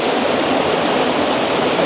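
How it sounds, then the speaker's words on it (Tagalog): A waterfall roars in a loud, unbroken rush of white noise, close and steady across the whole moment with no other sounds. "dito na tayo sa falls"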